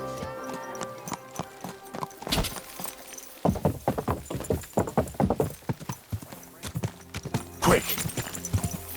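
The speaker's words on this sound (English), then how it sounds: "Is this your first time riding a horse" Horse hooves clip-clop steadily at close range in the medieval game Kingdom Come: Deliverance II, a quick rhythmic run of hoofbeats with a brief whinny-like sound and jingling tack.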